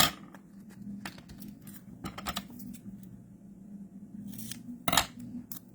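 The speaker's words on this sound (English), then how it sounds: "I think I need to snip this a little bit there" Scissors snip through paper during a stamping craft session, several quick, close cuts scattered over a quiet room-tone background, with faint handling clicks and no speech.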